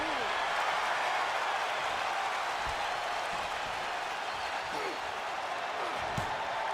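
A wrestling crowd roars in a steady wash of cheering and clapping, while a commentator talks over it and a few sharp thuds stand out.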